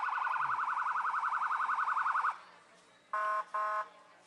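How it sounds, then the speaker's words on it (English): A police car siren wails at a small-town pepper festival parade, a loud rapid oscillating yelp close by that cuts off, followed by two short blasts of an electronic horn tone. "So the siren is on, the lights are flashing."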